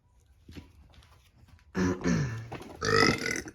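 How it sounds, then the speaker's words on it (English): A person burps loudly twice in quick succession at close range, each belch long and throaty, after a quiet stretch of faint rustling while working on a 2002 Subaru Impreza WRX engine replacement. "I know, not professional burping on camera."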